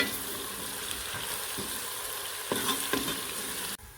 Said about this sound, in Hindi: अब इसको हमने ब्राउन करना है, इसी तरह आपने चम्मच को चलाते रहना है